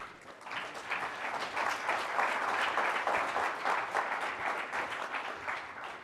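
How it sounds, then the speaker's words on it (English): Sustained applause from an audience welcoming distinguished guests, including ambassadors, at a civic engagement event at the Citadel: dense, steady clapping that swells slightly and holds through the whole stretch, with no voices over it. "Please join me in a round of applause for our distinguished guests."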